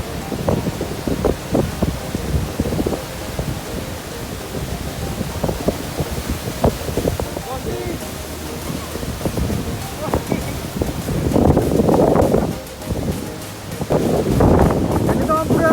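Strong wind and surf at Station 2 on Boracay beach, gusts buffeting the microphone with broadband roar and crashing bursts, loudest toward the end, with a voice talking at times.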